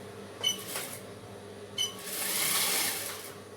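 Sewing machine stitching the folded belt of a patiala pant, with two brief bursts of stitching followed by a longer, steadier run, close and moderately quiet against a faint background hum.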